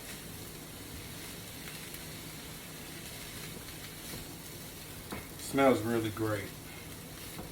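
Turkey chili sizzles steadily in a hot pan as it is stirred and mixed, a continuous crackling hiss under a brief spoken comment near the end.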